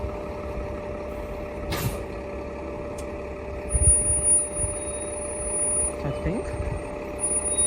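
A bus pulls away from a stop near a university hall, its engine rumbling at a moderate distance with brief hissing and a high tone, under light background noise and a short spoken remark.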